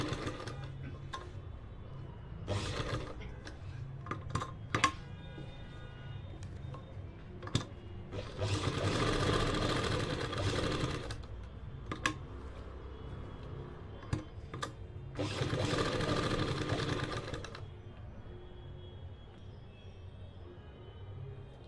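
A sewing machine stitches a salwar bottom with a poncha design, running in several bursts of a few seconds each, separated by quiet stretches with small clicks and handling noises, and no talking.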